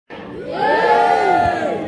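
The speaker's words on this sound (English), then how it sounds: "Best cheer of the day so far." A tour group at Warner Bros Studio London's Harry Potter making-of tour erupts in loud, sustained cheering and whooping, many voices close by rising together and holding for about two seconds.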